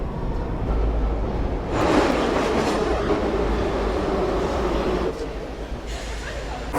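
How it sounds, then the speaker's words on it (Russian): Tbilisi metro train riding at speed, a steady loud rumble and rattle of the carriage with wheel clatter on the rails, swelling louder midway before easing slightly near the end. "Метро классно едет"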